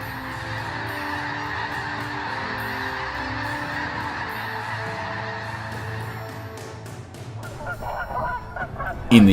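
A flock of Canada geese honking continuously in overlapping calls, layered and fairly close, with a busier cluster of sharper honks toward the end.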